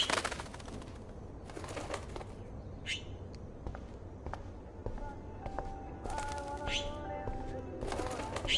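A small bird trapped indoors in the game Life is Strange gives a few soft, distant chirps and coos over a low ambient hum, with faint footsteps and brief wing flutters between them.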